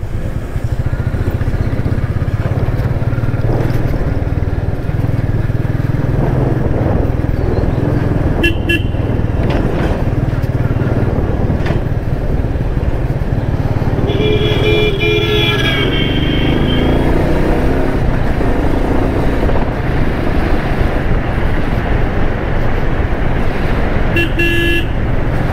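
A long vehicle cutting along a rain-soaked mountain road near Kodaikanal, with a steady close engine rumble and several short horn honks scattered throughout.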